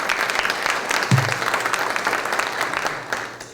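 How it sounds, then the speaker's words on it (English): Steady audience applause rings through a Fourth District city council community meeting, loud and unbroken from start to finish, with a brief low tone near the start. "Let's give her a round of applause for putting this all together."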